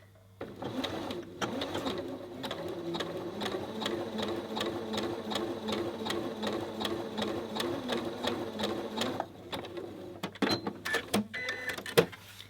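Domestic sewing machine stitching a long zigzag overlock along a garment edge, set to 3 mm width and 4 mm stitch length; a steady, close rapid whirring clatter runs for about nine seconds, then stops, followed by a few light clicks and handling sounds.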